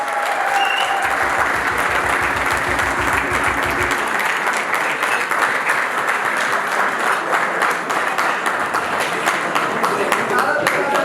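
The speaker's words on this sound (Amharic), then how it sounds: "ታላቅ ጭብጨባ ለይግራ ተቋም" Audience applause for the Yigra institute at an awards ceremony, a dense steady wash of clapping running throughout with a low rhythmic pulse under the first few seconds.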